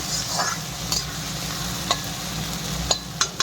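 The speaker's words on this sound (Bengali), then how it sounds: "টমেটোটা দিয়ে একটু নাড়াচাড়া করি, একটু লাল লাল করে ভাজিয়া হচ্ছে হালকা" Tomatoes fry in a pan for Punjabi-style egg bhurji, a low constant sizzle under a few light scrapes and taps of the spatula, growing more frequent toward the end.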